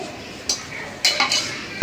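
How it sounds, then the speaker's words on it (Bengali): A wok being rinsed clean gives a few scattered metallic clinks and short scrapes over a quiet, hissy background. "এখন আমি কড়াইটা একটু ধোয়া দিয়ে নিয়ে আসি"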